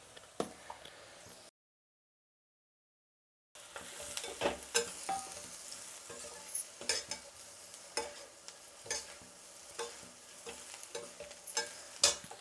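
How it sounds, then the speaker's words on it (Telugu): Ivy gourd frying with spices, salt and chili in a pan, a steady sizzle broken by repeated scraping stir strokes, with a short silent gap near the start and no talking. "ఇప్పుడు దొండకాయ వేసుకుందాం"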